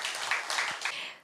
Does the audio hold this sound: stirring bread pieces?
no